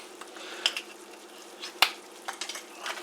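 Shrimp fry and sizzle in oil in a pan as they are tossed around, with soft hissing, scattered clinks and a sharp knock of the pan against the stove.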